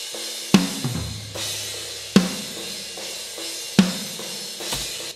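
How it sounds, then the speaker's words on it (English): A metal drum mix is heard through the snare close mic: three sharp, loud snare hits about every 1.6 seconds, each with a ringing body, with cymbal wash and kick bleed underneath and no voices. "Let's add the snare mic."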